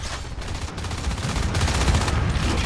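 Sustained gunfire in the sci-fi shooter Natural Selection 2, a dense, continuous rattle of rapid shots pressing on steadily at fairly close range.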